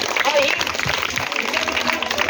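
A classroom of students claps together in a brief, dense patter of applause, with a teacher's voice talking over it.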